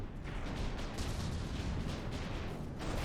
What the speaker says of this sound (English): We do have some explosions here and there